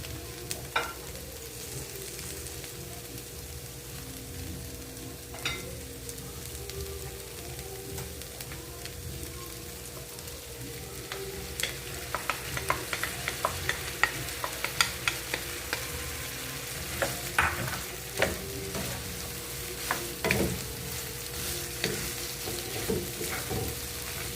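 Butter tofu sauce mix cooking in a pan with steady sizzling and frying, with stirring scrapes and clinks that grow busier and louder in the second half.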